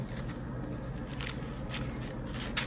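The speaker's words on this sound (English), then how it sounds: "It has a bit of a crunch sound to it, but it's very thin." Thin washi paper made from kozo fibre is handled, giving soft crunching and crackling sounds close by, quiet and irregular against a low background hum.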